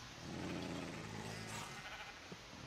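Sheep bleat in the Minecraft video game, a drawn-out bleat rising over a steady noisy game background for a couple of seconds.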